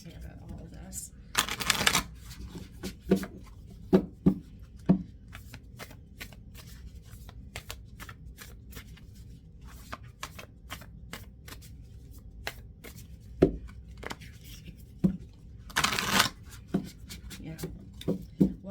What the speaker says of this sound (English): I'm going to pull some energy and spirit cards.